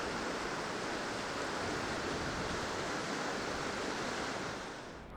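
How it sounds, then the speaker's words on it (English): River water rushes and flows steadily at close range, a dense, even wash of noise with no voices that eases off slightly at the very end. "The peaceful smells and sounds of the river just find their way into your soul somehow."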